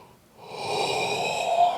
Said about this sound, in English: as soon as I start doing this, I immediately yawn